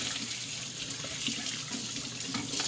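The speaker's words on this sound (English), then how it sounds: "I'm just rinsing it out." Tap water runs steadily into a sink while a Nama J2 juicer part is rinsed under it, a continuous close splashing hiss with no talking.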